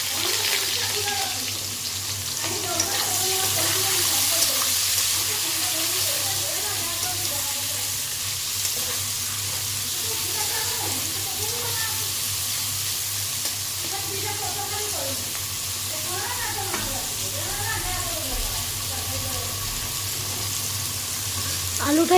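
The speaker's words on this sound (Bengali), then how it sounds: "আলুটা এখানে ভেজে নেব" Potatoes fry in a pan for Bengali-style fried rice, giving off a steady, close hiss and sizzle that runs unbroken, with someone talking intermittently over it.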